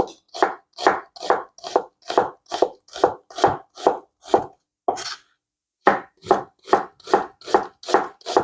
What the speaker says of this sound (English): Now finally slice 1 medium onion.